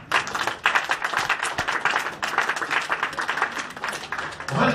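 A church congregation at a wedding applauds, a dense, continuous clapping that keeps up throughout, loud and close, with a voice briefly rising near the end.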